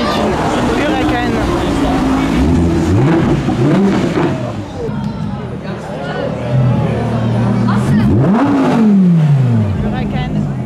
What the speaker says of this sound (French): Huracan Evo, bien énervé avec sa plaque Huracan en plus.